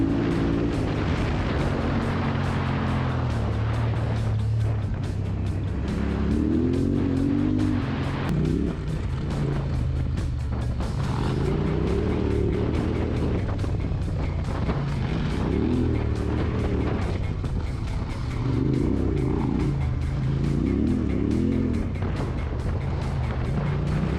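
An adventure motorcycle's engine drones steadily while riding, a loud, close rumble with rising and falling revs and a rough low growl throughout.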